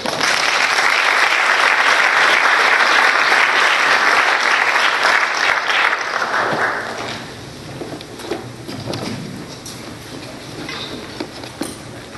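An indoor audience at a human trafficking awareness event bursts into loud, dense applause that holds steady for several seconds, then thins out to scattered claps and room noise.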